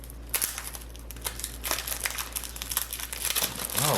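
A Keyforge card deck package, an Age of Ascension deck, being unwrapped by hand: continuous close crinkling and crumpling of plastic wrap with sharp crackles and tears throughout, loud and alone with no talk.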